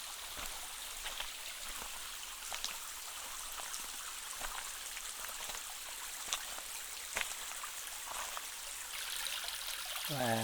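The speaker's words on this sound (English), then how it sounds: "beautiful stream, the sound of running water." A forest stream in Hammersley Wild Area, Susquehannock State Forest, Pennsylvania, trickles and gurgles steadily at low level, with faint splashes and no talking.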